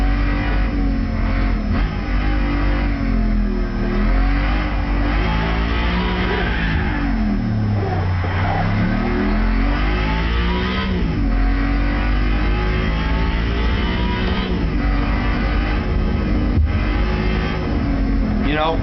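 Audi R8 engine in Gran Turismo 5 Prologue revving steadily on track, a loud continuous drone with the pitch rising and falling through gear changes and corners, and a voice talking over it throughout.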